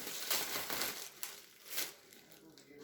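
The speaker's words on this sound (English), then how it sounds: "cut the bag open." Crinkling and crunching of plastic as a bag around a turkey is cut open with scissors, close by, with a few rustling bursts and some faint voice.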